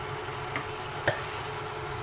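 Chicken being mixed into biryani masala in a pan, a low steady sizzle with one or two soft scrapes of a spoon, close and quiet, no voices.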